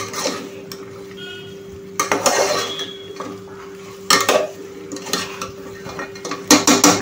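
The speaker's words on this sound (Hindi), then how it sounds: "आणि लगेचच आपण हे मिक्स करणार आहोत हाय फ्लेमवरती." Chicken being stirred in a pan over a high flame with cornflour water added, metal utensil scraping and clanking against the pan in bursts over a steady low hum, loud and close.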